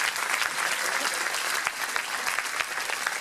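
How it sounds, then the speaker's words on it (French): Audience at a Dojo de la Sèvre martial arts gala applauds volunteers and parents, a dense, steady burst of clapping from a large crowd filling the room throughout. "je voudrais qu'on applaudisse aussi les bénévoles et les parents"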